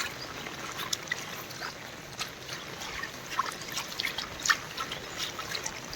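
Rainwater runs and trickles through farm fields in rural Gujarat after heavy rain, a continuous soft watery rush with scattered small splashes and gurgles, steady and moderately quiet with no talking.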